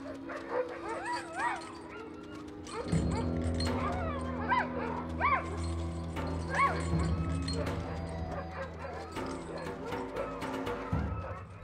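A pack of Arctic dogs barks, yips and whimpers as a hungry polar bear approaches, with scattered short calls over a steady low background rumble throughout.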